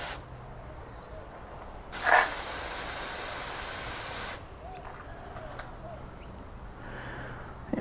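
A single sustained spray of sealant from an aerosol can hisses for about two seconds, then stops, leaving a quiet room.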